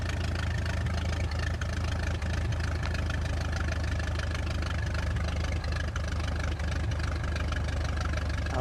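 A de Havilland Chipmunk's piston engine runs steadily at a low, throbbing idle while the aircraft taxis, a continuous loud drone with no breaks and no talking.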